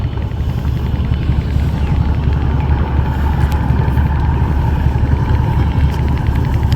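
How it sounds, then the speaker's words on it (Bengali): A loud, steady low engine drone rumbles continuously with a faint uneven pulsing, a lighter cargo ship's engine chugging unevenly close by on a river. "লাইটার জাহাজ দেখতে পাচ্ছেন আমাদের পাশে এইটার ইঞ্জিনের আওয়াজটা কেমন যেন মানে ছেড়ে ছেড়ে আসতেছে"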